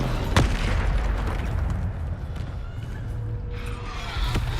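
Bombarda explosion spell cast in Hogwarts Legacy, a booming blast at the start followed by a rumbling tail and further bursts later, amid continuous game combat noise.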